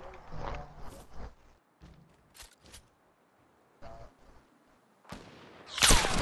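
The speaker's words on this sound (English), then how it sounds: "Shoot the other team then." Scattered Fortnite gunshots ring out in a squad match, a few faint distant shots spread across the quiet stretch, then a loud close burst of fire at the end.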